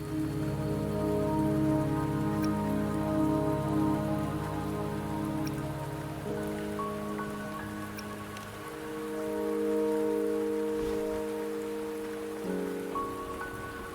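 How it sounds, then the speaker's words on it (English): Steady rain pours on surfaces in the video game Wuthering Waves, a dense continuous hiss with low rumbling tones and game music running underneath, with no voices. "The rain won't last much longer."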